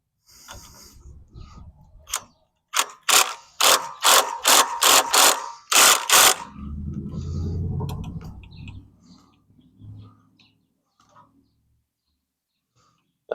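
A ratchet tightens the neck bolt on the front forks of an MB001, giving sharp, close bursts of rapid clicking in quick repeated strokes, followed by a lower rumbling stretch and then quiet.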